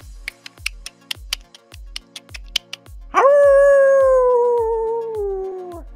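A voice imitates a dog with a long, drawn-out howl that slowly falls in pitch, following a series of short yips over a steady thumping beat.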